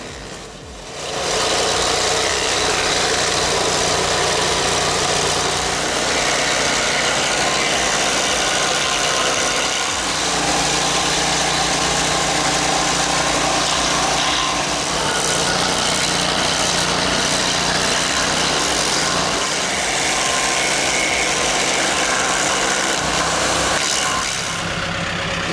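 Vermeer SC30TX stump grinder with a 25 horsepower Kohler engine grinding an oak stump, a loud, steady engine drone with gritty cutting noise running continuously close by, with no talk.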